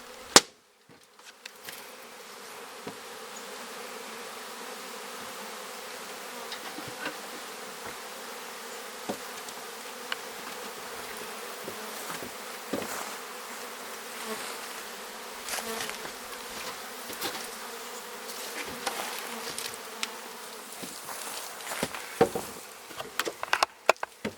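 Honey bees buzz around an open hive during a July apiary inspection, a steady, dense droning hum that continues for the whole stretch, with occasional knocks and faint handling sounds of the frames.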